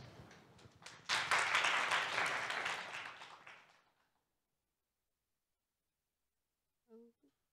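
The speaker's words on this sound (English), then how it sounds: "Join me in giving a big applause" Audience applause at a medical education conference on generative AI swells quickly, holds for a few seconds, then fades into silence before a brief voice is heard.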